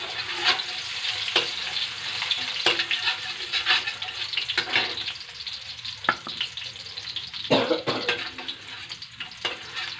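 Garlic sizzles steadily in hot oil in a pan, with occasional stirring scrapes and clinks punctuating the crackle; no voices.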